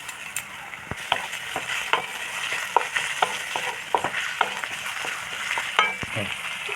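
Diced onion, chopped chili and a garlic-chili paste with ajwain fry in mustard oil, giving a steady close sizzle broken by repeated scraping and clinking as a spatula stirs the pan.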